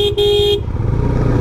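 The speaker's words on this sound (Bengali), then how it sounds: "সো এখানে ডাবল হর্ন লাগানো" A GPX Demon 250cc motorcycle fitted with a double horn gives two loud, close toots, a brief blast then a longer one, before fading into the bike's low engine rumble.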